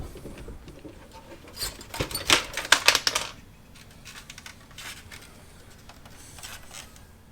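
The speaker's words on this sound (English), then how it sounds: "So we're just going to go ahead and start unscrewing these, being careful not to scratch up the interior of the headlight." Headlight screws being backed out with a T20 Torx bit on an LED board install, producing a burst of small, close metallic clicks and ratcheting ticks, then quieter faint handling noise.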